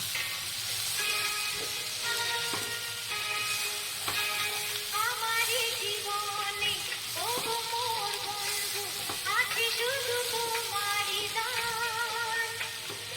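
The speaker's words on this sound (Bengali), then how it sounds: "দিয়ে এবার এগুলো একসাথে আমি একটু ভালো করে কষিয়ে নেব।" Rajma and kabuli chole being sautéed together in a pan, a soft steady sizzle with occasional scraping stirs, fairly quiet and close, under faint background sounds.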